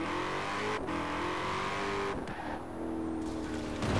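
A car engine in the racing game Forza Horizon 4 revs hard and sustained, loud and close, with the pitch dipping briefly as gears shift before climbing again.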